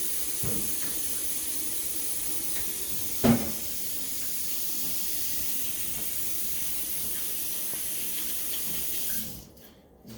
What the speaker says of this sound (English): I gotta wash my hands